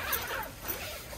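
A tent zipper on a Hilleberg Keron 4 tunnel tent in the Yukon gives one short, soft rasping pull, quiet and close.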